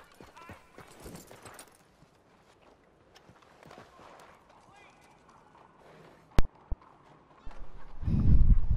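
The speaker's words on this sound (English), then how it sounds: "Where's my horse? Oh, this is my horse." Horse hooves clip-clopping in the video game Red Dead Redemption 2, a series of light rhythmic steps under quiet game sounds, with a couple of sharp clicks and a louder rumble near the end.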